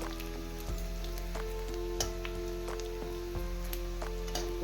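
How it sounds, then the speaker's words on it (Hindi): Onions fry lightly in a pan, a soft, steady sizzle with scattered small crackles and faint taps of a utensil over a low constant hum, quiet and close. "प्याज को हल्का सा भून लेंगे, ज़्यादा लाल भी नहीं करना है"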